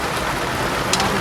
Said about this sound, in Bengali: একদম ঝাপা বৃষ্টি চলে আসছে